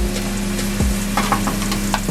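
Chilli con carne frying and being stirred in a pan, a steady sizzle with spoon scrapes and clinks at a close, even level, no talking.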